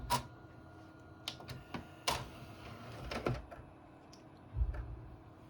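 An original Xbox disc drive reading a Halo: Combat Evolved disc gives off quiet, irregular sharp clicks and ticks, scattered through a near-silent room.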